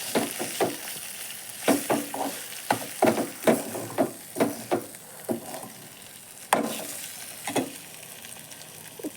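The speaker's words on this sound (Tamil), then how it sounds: "பெப்பர் சேர்த்துட்டு நல்லா வதக்கி போட்டுக்கலாம்." Spatula scraping and stirring in a pan as food sautés with turmeric and pepper, giving a run of sharp, fairly close clacks over a steady sizzle.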